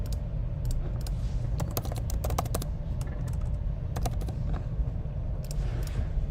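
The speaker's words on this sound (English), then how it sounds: "I'll type it in." Irregular bursts of clicking keystrokes on a computer keyboard sit close over a low steady background hum during a live day trading session, with short quick clusters and pauses between them and no talk.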